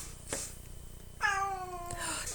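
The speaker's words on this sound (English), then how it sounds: "You hear that? That's my cat." A pet cat meows once, a clear drawn-out call close by in a quiet room, with a faint tap before it.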